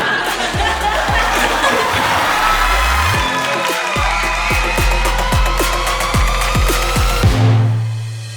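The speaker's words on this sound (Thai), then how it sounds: "ขอเสียงเฮดังๆให้คอมเมดี้รุ่นต่อไปที่กำลังจะเกิดขึ้นมาอีก" A stand-up comedy audience laughs and cheers in a large venue, a dense roar of crowd voices with applause, sustained throughout and tapering at the end, while rhythmic music thumps underneath.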